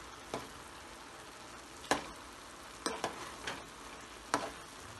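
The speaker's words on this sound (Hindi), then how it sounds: "थोड़े से ड्राई फ्रूट और डालें और इसको हल्के हाथ से चलाएंगे" Deghi-style zarda sweet rice with added dry fruits is gently stirred in a pot, giving about six soft, spaced scraping strokes over a faint, low sizzle, with no talk.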